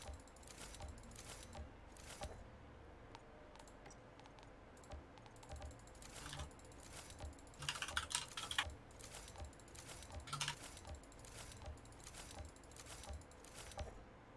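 A computer mouse clicks rapidly and repeatedly through an Outriders game menu, dense irregular taps close to the mic with a faint game hum underneath.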